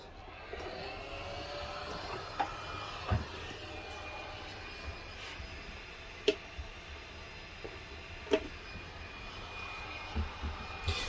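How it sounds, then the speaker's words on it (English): A hot air reflow wand blowing at 60% airspeed while replacing NEC Tokin capacitors with tantalum parts on a circuit board gives a steady, faint airflow hiss, broken by a few soft clicks. "so now we're going on to a reflow wand"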